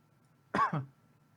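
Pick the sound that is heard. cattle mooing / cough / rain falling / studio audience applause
cough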